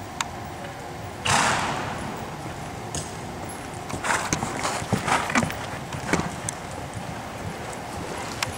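Horse cantering in a youth charity riding class in an indoor arena, with rhythmic thudding hoofbeats near and far, fairly loud, and faint background voices.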